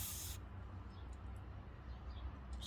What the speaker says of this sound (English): I'm gonna use this cleaner here, this CRC brake clean